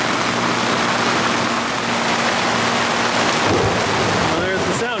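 Thunder rumbles through a loud, steady downpour of heavy rain on Lake Ontario, with the storm noise filling the whole clip.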